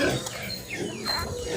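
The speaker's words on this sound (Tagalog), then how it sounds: "And then nandito yung mga piglets ng Sasa" Piglets waiting to be fed on a farm, close grunts and squeals overlapping one another, with a person talking over them.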